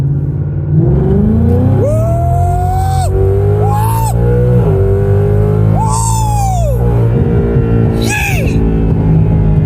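A 2020 Ford Mustang GT with a 10-speed automatic accelerates hard from second gear, the loud V8 engine note rising in pitch through several upshifts, each marked by a brief dip before climbing again, steady and close throughout.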